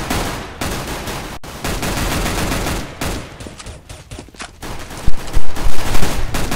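Dense gunfire traded during a CS:GO match, loud overlapping bursts of rifle fire packed almost continuously, with a few brief gaps and sharp heavier shots toward the end.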